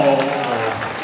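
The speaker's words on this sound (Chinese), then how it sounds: "掌声鼓励鼓励。" A crowd claps for a cosplay contest team on stage in Kaohsiung, a dense burst of applause that fades slightly over about a second, with a voice briefly audible at the start.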